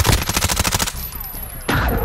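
Rapid automatic gunfire in the video game Call of Duty Warzone, a fast rhythmic string of close, loud shots that pauses briefly, then resumes with another burst.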